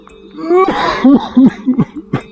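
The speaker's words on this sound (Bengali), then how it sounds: "ওখানে আবার কে এরকম কাশি দেয়?" In an animated Bengali fairy tale, a sickly-sounding person gives a loud, hoarse burst of coughing, then a string of shorter, throaty coughs in an uneven rhythm.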